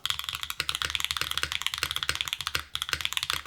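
Rapid, steady typing on a tape-modded Float65 mechanical keyboard, with muted, thocky keystrokes in a continuous close-up stream, no voices.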